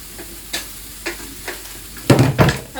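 Peppers and onions sizzle in a frying pan, with a steady hiss broken by a run of scraping stirs that grow louder toward the end.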